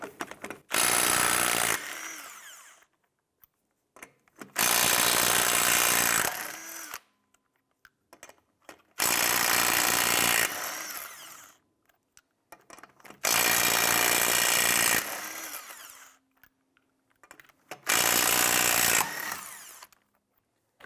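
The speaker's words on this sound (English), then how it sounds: "Using your 19mm socket, loosen and remove the lug nuts" Impact wrench loosening and removing lug nuts with a 19mm socket from the rear wheel of a 2005-2007 Ford Five Hundred, five loud separate bursts of rattling hammering each lasting a couple of seconds, with quiet gaps between them.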